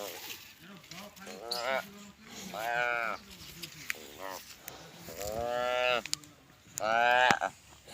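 A cow and her prematurely born calf moo repeatedly outdoors in hot sun, with several drawn-out, tonal calls separated by short pauses, close and fairly loud.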